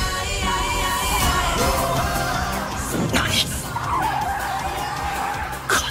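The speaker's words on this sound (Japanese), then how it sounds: "ドリフト。" Screeching tire skid of a car drifting through a tight mountain pass corner in the Roblox racing game Initial R, a loud sustained squeal over engine roar with a voice briefly calling out.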